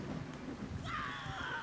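A brief wash of rainfall from a Wartales rainstorm hisses on its own, with a faint rumble and a thin high tone entering partway through.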